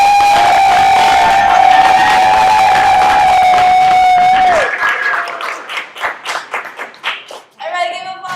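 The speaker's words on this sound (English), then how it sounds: "Now y'all can give it up for AJ Nicole" A studio audience at a teen talk show claps and cheers for an introduced guest, the applause breaking out loudly after a long drawn-out shout from the host and continuing in uneven bursts.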